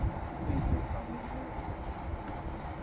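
A train runs through Chitila station without stopping, a steady low rumble of wheels and carriages that holds fairly level for the whole stretch, heard from nearby at moderate volume with no voices over it.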